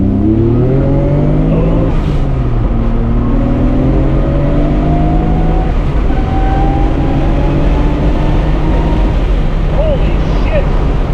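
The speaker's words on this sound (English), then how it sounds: "let's do a quick 2nd, 3rd, and 4th gear pull here." A 2.8-litre RB28 stroker-kit Nissan Skyline GTR with forged internals and VCam pulls hard through second, third and fourth gear, its engine note climbing steadily in pitch with each gear change. The engine stays loud and close throughout, with a short exclamation from inside the car.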